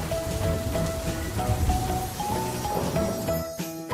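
Cartoon rain sound effect: a steady, close wash of falling rain and pattering drops, continuous throughout with a faint tonal hum underneath and no voices.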